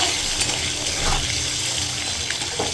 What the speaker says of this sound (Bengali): আর এখানে আমি এখন ডিমগুলোকে ভাজছি।